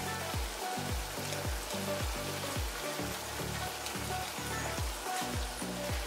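Shrimp fry in a hot pan with a steady, close sizzle and crackle, heard over a low, rhythmically repeating background beat.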